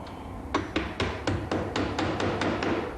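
Flathead nails being hammered into aluminum, a steady run of about ten sharp, close metallic strikes spaced roughly a quarter second apart over a low background hum.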